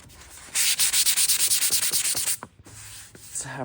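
Rhythmic rasping strokes of sandpaper on a car's metal body, about a dozen quick even passes close up, then a pause and a few softer rubs.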